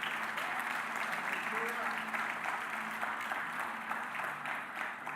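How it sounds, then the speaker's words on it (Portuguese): A church congregation applauds during a Portuguese-language sermon, a steady, dense wash of clapping that holds evenly at moderate loudness throughout, with faint voices mixed in. "Você pode aplaudir a Deus pela palavra dele?"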